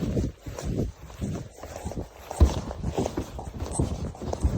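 Horse hooves clip-clop in a steady walking rhythm on outdoor ground, close and moderately loud, with some wind noise around them.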